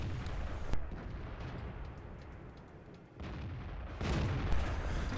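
Tank cannon fire in a Stalingrad-set war video game, with a sharp blast followed by rumbling battle ambience and a heavier burst of booming noise near the end, with no voices.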